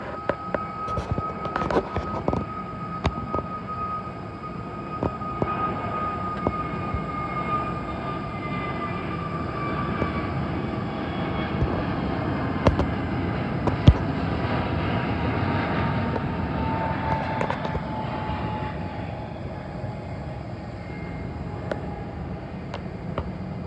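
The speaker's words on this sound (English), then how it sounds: "Comes the Airbus A321neo of British Airways to Athens." A British Airways Airbus A321neo departing Heathrow for Athens produces a steady engine roar with a slowly falling whine, mixed with scattered clicks and knocks close by.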